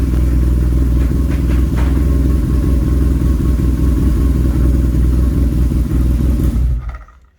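A BMW R nineT motorcycle engine fitted with a quickshifter runs loud and close, with a few brief stutters where the ignition cuts, before the engine sound drops away to near silence at the end.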